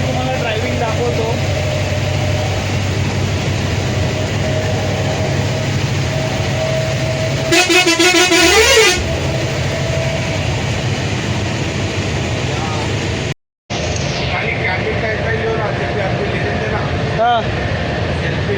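A seating-and-sleeper bus travels the road from Mumbai to Akkalkot, heard from inside as a loud, constant engine and road rumble. A brief horn-like blare sounds partway through, and people talk over the noise.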